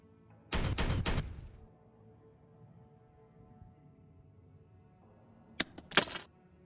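Two bursts of rapid gunfire in the Warhammer 40K Regicide video game, a dense volley at the start and a shorter crackling burst near the end, separated by a quiet stretch of low battlefield ambience.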